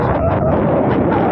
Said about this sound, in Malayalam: പക്ഷേ നല്ല രീതിയിൽ കാറ്റും